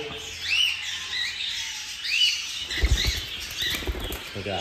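Albino birds flutter inside a flight cage, with soft bursts of wing flapping and scattered chirps close by, plus a few light knocks against the cage.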